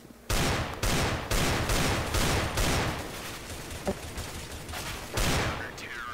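Rapid bursts of gunfire on the Mirage map in CS:GO, loud, close-range shots crackling in quick clusters with brief gaps between volleys, with no talking.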